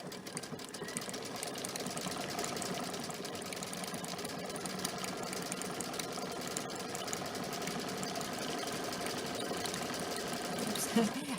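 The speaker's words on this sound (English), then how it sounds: "So it will sew close, and then it slows down and stops." A Luminaire sewing machine stitches using its endpoint sewing feature, giving a continuous, fairly quiet mechanical whir that holds steady through the clip, with speech faintly beneath it.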